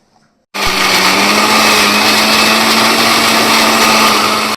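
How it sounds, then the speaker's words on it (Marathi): A kitchen mixer grinder grinds roasted onion and garlic into a paste. After a brief quiet start it whirs up abruptly into a loud, steady, high-pitched motor whine that holds to the end. "आता आपण सगळं हे वाटून घेऊया."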